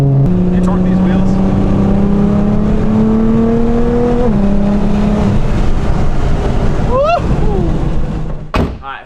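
A Nissan R35 GTR driven hard on its third map, engine roaring close and loud as its pitch climbs steadily through the revs, with shifts breaking the rise, before it fades out at the end.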